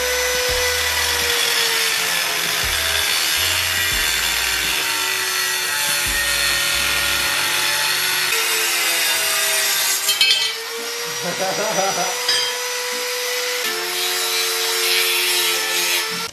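A power tool cuts a Yamaha Mio scooter part with a loud, sustained whining grind that holds steady and then briefly shifts pitch, while voices talk faintly underneath.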